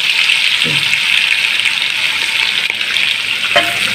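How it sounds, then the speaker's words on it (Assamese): Peanuts fry in hot oil for an egg and milk curry, making a loud, continuous, close hiss and crackle with brief bursts of stirring. "এয়া আমাৰ তেলটো গৰম হৈ গ'ল। তেলত দি দিছোঁ ধুনীয়াকৈ।"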